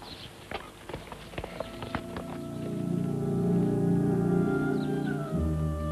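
Hooves of a horse clip-clop on a hard surface at a stable yard, a quick run of sharp knocks early on, then a sustained tonal drone takes over as the steps fade.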